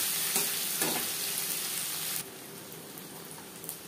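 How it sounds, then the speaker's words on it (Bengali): Chopped onion hits hot oil with fried bay leaves for a potato and hilsa fish curry, giving a loud, dense broadband sizzle that drops sharply to a quieter steady frying hiss partway through, with faint stirring clicks. "তেজপাতা ভেজে নেওয়ার পর দিয়ে দেবো পেঁয়াজ কুচি"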